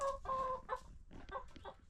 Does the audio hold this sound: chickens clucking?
yes